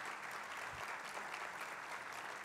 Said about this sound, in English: big round of applause, Dave Furst